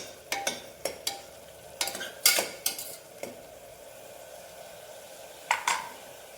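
Green chillies fry in a little oil for a mutton curry while a spoon stirs the pan, giving close metallic scrapes and clinks in an irregular rhythm over a faint sizzle.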